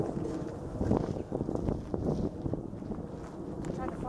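Strong wind, around twenty miles an hour, buffets an outdoor microphone in a steady broadband rumble through the whole stretch, with people talking faintly underneath.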